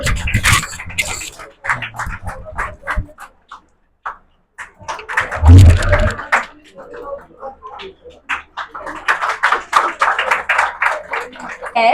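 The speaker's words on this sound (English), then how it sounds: "please keep on applauding" Dense clapping from a crowd at a felicitation ceremony builds near the end, mixed with a voice talking over it and some room noise.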